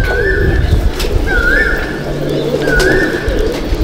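Madras pigeons in a loft give repeated soft, rolling coos, three distinct calls spaced about a second apart, close and clear over a low background hum, with no one speaking.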